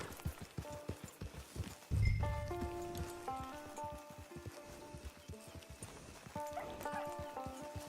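Horse hooves clip-clopping in the video game Red Dead Online, a steady rhythmic trot of crisp hoof strikes mixed with soft rain-like patter and brief musical tones, no talking over it.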